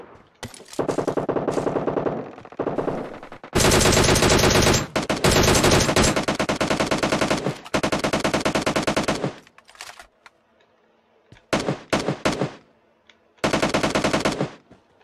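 Automatic gunfire in the shooter game PUBG Mobile, on the Livik map, loud close bursts of rapid shots in long strings separated by short pauses, with no talking.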